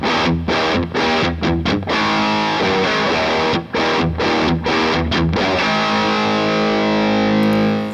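An electric guitar plays through an Orange Super Crush 100 amplifier with heavy, loud distortion. Choppy palm-muted chugs with sharp stops give way to a sustained ringing chord, and no one speaks.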